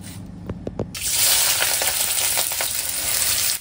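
Sliced onions for biryani beresta drop into hot oil with a few sharp clinks, then a loud, steady sizzle of frying fills the rest, dense and close.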